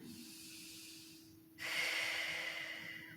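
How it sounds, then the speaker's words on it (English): Deep breaths in and out during a seated yoga stretch, a soft steady exhale then a louder, rushing breath that swells and slowly fades, close and alone with no talk. "Breathe in. Exhale, big breaths in and out."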